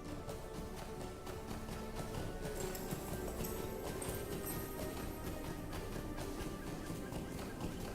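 Hooves of a horse in the online game Lord of the Rings Online clop in a steady, continuous rhythm, fairly loud and close, mixed with ambient game music.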